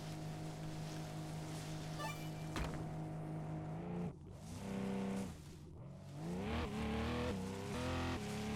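An off-road truck engine in Offroad Mechanic Simulator revs steadily with diffs locked and RPMs raised, a continuous loud drone that dips briefly midway and then climbs again, with no talking.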